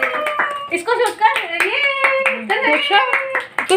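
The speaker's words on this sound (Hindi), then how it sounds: "ताली" Hands clapping at a birthday and anniversary celebration at a retreat resort, close and steady, with voices talking and children's chatter mixed throughout.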